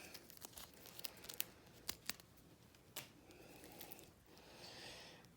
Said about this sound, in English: So let me just peel it.